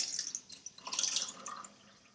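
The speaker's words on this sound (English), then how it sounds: "So I'm going to take tap water and pour it on this tea bag." Cold tap water pours into a cup over a green tea bag, a soft trickling and splashing that stays faint and close.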